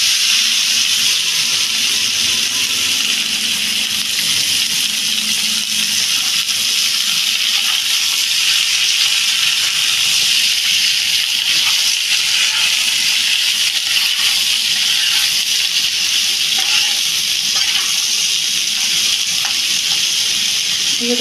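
Chopped ash gourd hits a hot pan of oil tempered with radhuni spices, giving a steady, loud, continuous sizzle and hiss that stays even throughout, with no talking.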